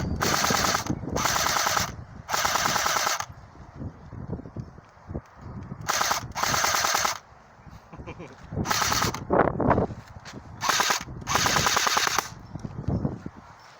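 An AceTech AT2000R tracer unit on an airsoft gun firing repeated full-auto bursts of rapid cracking shots, each burst lasting about a second with short pauses between, loud and close, with voices talking over the quieter gaps.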